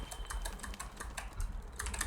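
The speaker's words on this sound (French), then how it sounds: "Je crois que mon clavier me fait des siennes." Computer keyboard keys clatter in quick, uneven bursts of soft clicks during gameplay, close and fairly quiet, with no speech.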